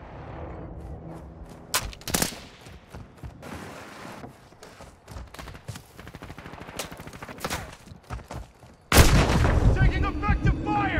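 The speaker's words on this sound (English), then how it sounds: "Taking effective fire!" Gunfire in COD Mobile, rapid automatic bursts and single shots rattling through a busy match, then a loud heavy barrage near the end, with game voice callouts in between.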